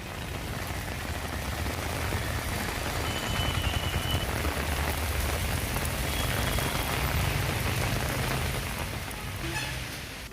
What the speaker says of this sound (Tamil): பல்வேறு பகுதிகளிலும் புறநகர் பகுதிகளிலும் கனமழை கொட்டி தீர்த்தது